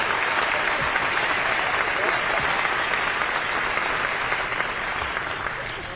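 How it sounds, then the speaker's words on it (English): A crowd at a community memorial honoring a murdered King County Metro bus driver breaks into sustained, dense applause that holds steady and loud for the whole stretch, tapering slightly at the end. "Number one applause, Shire"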